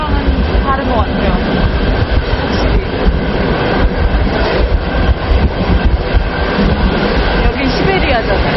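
A passenger train runs through Siberia with a loud, steady rumble and rattle close by that continues without a break.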